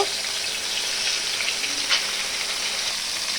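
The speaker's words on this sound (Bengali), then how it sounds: "মাছটার ডিমটা আমি সুন্দর করে ভেজে নিব" Fish roe fries in a pan with an even, close sizzle that holds steady throughout, a faint scrape near the middle and no voices.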